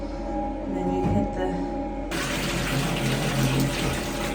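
A self-cleaning public toilet in Switzerland flushes and washes its seat, giving a steady rush of water and pumping that suddenly grows into a broad, loud hiss partway through, with people talking over it.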